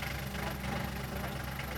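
A helicopter engine running up at start, a steady low droning rumble with a rough, even texture, close and continuous, no talking.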